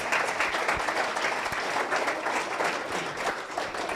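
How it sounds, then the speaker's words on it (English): At a children's innovation challenge event, the audience gives another round of applause for four projects, an even, continuous patter of many hands, moderately soft and somewhat distant. "let's do one more round of applause for all 4 of those projects"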